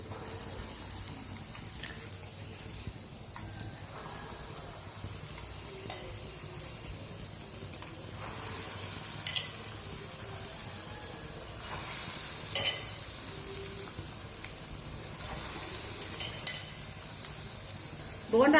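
Urad dal bonda batter fries in hot oil, a continuous busy sizzle and crackle with occasional bubbling bursts, close and fairly loud throughout with no talking.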